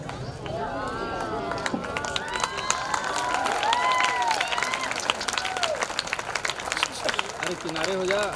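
Audience applause and cheering at a college stage programme at Chaitanya College, Pamgarh, Chhattisgarh, a dense steady clatter of clapping from a large crowd lasting several seconds, with voices and whistle-like tones mixed in.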